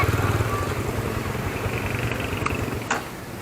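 Motorcycle engine with a weak, quiet muffler, idling and revving in a steady low drone close by, the pitch easing slightly toward the end.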